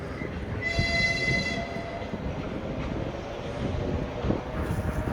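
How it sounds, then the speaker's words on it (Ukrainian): An electric commuter train rumbles past with a steady low roar and rattle, a brief horn-like tone sounding early on, fairly close and continuous, in a mountain hamlet in Lviv region. "звук поїзда, електрички"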